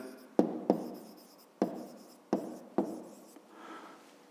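A pen writes numbers during a fifth-grade maths exercise, making five sharp taps of the tip followed by short scratchy strokes, close and quiet, then a softer rubbing at the end.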